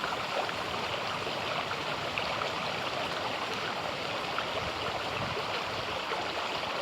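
A cold river stream rushes and burbles in a continuous, even wash of water, steady and fairly close, with no voices.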